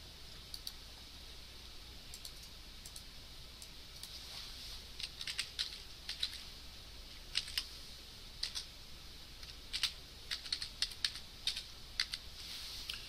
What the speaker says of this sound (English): But if I were to type in S